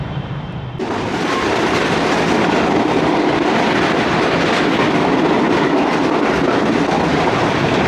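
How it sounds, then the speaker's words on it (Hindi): The Tezgam passenger train runs through Aminabad station without stopping, past a waiting express; a sudden surge of loud, continuous rumbling and wheel clatter fills the scene and holds steady throughout. "अमीनाबाद स्टेशन पर 39 अब जाफ़र एक्सप्रेस वो खड़ी है और हम थ्रू कर रहे हैं।"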